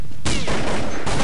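A single loud, sharp gunshot cracks in a competitive shooter match, with a burst of echoing decay afterward and no speech over it.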